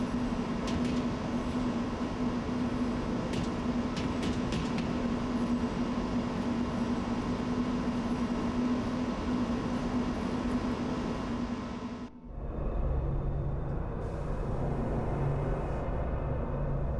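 A train in the video game Lost Odyssey rumbles steadily with a dense, continuous roar and a sustained tonal hum, briefly dipping near the end before the rolling noise carries on; no voices.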